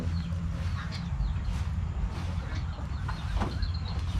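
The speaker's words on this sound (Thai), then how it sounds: "เสียงห่านนะครับที่ดังอาดอาดอยู่นะ" Geese call repeatedly over a steady outdoor rumble, a mix of honking and clucking cries at moderate distance.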